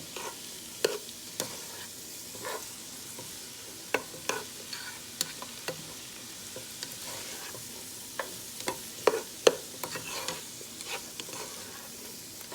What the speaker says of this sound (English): you don't have to saute this for too long because, of course, we know it's going to do more cooking as we add every layer to this